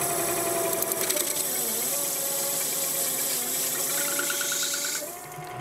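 Mini lathe cutting metal at a radius and bogging down near stall, a continuous close whining motor tone whose pitch sags and wavers under load before easing off at the end.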